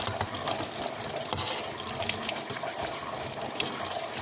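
Water runs steadily from a tap into a sink, a continuous splashing hiss with faint clinks, fairly close.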